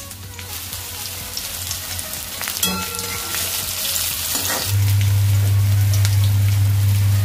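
Cauliflower frying in mustard oil gives a loud, steady sizzle and crackle up close. Partway through, a low, constant hum joins the sizzle, and no one speaks.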